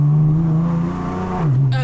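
A Nissan 370Z engine revving loud and close, a deep throbbing drone that holds steady, dips briefly and then climbs again, with no talking.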